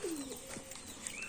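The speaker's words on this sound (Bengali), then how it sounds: "এই দেখো পায়রাগুলো সব এখানে চলে এসেছে খাওয়ার জন্য" Pigeons gathering to feed on scattered wheat, broken rice and mustard seed give a soft, low coo that bends downward, with faint chirps over steady outdoor background noise.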